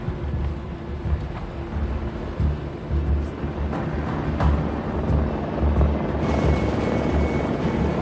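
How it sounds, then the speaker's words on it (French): A helicopter arrives with a steady low rotor thumping and engine roar, moderately loud and constant, with occasional clicks and a higher whine joining near the end. "L'hélicoptère arrive."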